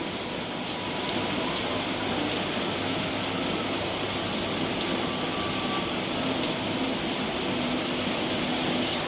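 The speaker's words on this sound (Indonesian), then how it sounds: "Duh, hujan terus teman-teman." Steady rain falling outdoors in Jakarta, a dense, even patter with occasional brighter drips, continuous and fairly close throughout.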